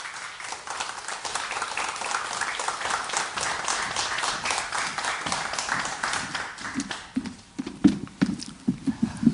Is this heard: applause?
yes